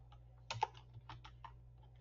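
Typing on a computer keyboard: a handful of soft, irregular keystroke clicks, close but quiet, with no one talking.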